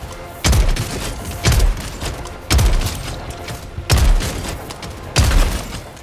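Five heavy, booming shots from the strongest gun in Helldivers 2, fired one at a time at a steady pace about a second apart, each with a deep thump and a short rolling tail.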